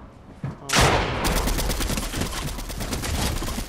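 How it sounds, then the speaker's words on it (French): Rapid Fortnite gunfire erupts after a brief quiet moment, a dense, loud stream of shots that keeps rattling on steadily as in a close firefight during a late-night match. "Y'a un autre gars qui me tire."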